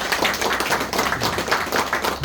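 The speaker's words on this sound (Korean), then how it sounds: "다시 한번 박수 주십시오" An audience at a church thanksgiving service gives a brief round of applause, a dense burst of many hands clapping together from nearby.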